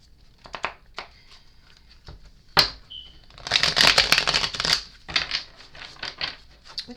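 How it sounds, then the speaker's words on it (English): Close, crisp rustling and slapping of tarot cards being shuffled, with a few quick flicks and a longer riffling burst in the middle. "while I shuffle these cards."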